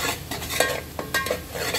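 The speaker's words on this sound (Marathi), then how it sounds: "आता हे आपण व्यवस्थित छान कांद्याबरोबर एकत्र भाजून घेऊया" Onion stir-fried in a pan with turmeric, red masala and onion-garlic masala for spicy misal, giving a steady sizzle broken by repeated scraping strokes of a spoon, close and fairly loud, with no talking.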